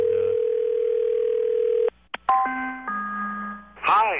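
A telephone calling a house plays a steady tone that cuts off, followed by clicks and a series of electronic beeps and tones, heard close and clear with no talking.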